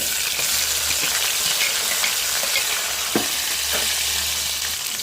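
Loud, continuous frying of green chillies, onions and chana dal tempering seeds in hot oil, a busy sizzle broken by occasional stirring clatters and scrapes, with no voices.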